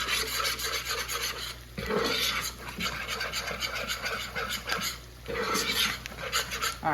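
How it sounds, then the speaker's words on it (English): Homemade gravy stirred in a pan while browning gives a steady raspy scraping and rubbing of a utensil across the pan bottom, close and continuous in repeated strokes, with no talking. "I'm just going to brown this up real good. Just keep stirring it."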